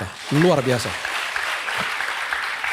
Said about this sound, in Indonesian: Berikan tepuk tangan untuk Tuhan kita.